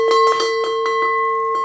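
A homemade wind-chime bell with a wooden clacker inside rings in quick light strikes, several clear metallic tones overlapping with a steady sustained ring, close and fairly loud with no voices.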